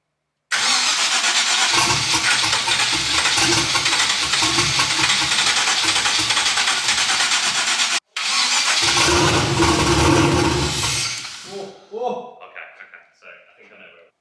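A turbocharged Ford Mustang project car with a 1000+ hp engine cranks and fires up, roaring loud and steady for several seconds, cutting out briefly, then restarting and revving before settling into a choppy, uneven idle.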